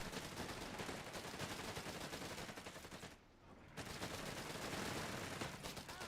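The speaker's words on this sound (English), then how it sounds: "The MP40 is doing some nice damage against the Dingo." MP40 submachine gun fire in Company of Heroes 3, a dense, continuous rattle of automatic bursts amid battle noise, with a brief lull near the middle before the firing resumes loudly.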